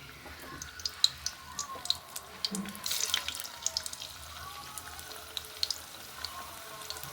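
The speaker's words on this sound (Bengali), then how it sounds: "এই যে শেপ করে নিচ্ছি, নিয়ে ডুবা তেলে ভাজবো। আমার সবজির পাকোড়া ছেড়ে দিলাম।" Vegetable pakoras deep-frying in oil: a faint, steady crackle and bubbling with scattered soft pops, heard close but quiet.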